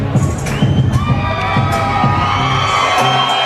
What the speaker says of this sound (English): There is the crowd making noise for the Coachella Valley native, Caden Griffiths.